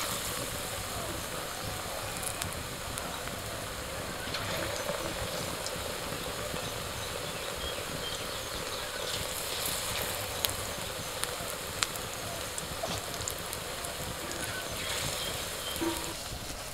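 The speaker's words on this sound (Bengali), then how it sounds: "এবার আমি আস্তে আস্তে ছোট ছোট করে বড়ার মতো করে তেলের মধ্যে ছেড়ে দিচ্ছি।" Small potato fritters are dropped into hot oil, a faint, continuous fine crackling sizzle with a few brief sharper pops along the way, heard alone and steady throughout.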